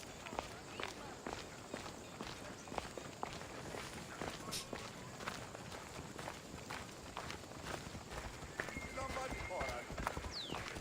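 Horse hooves clip-clop in a steady walking rhythm throughout, moderately close, with people talking over the top in a roleplay game setting.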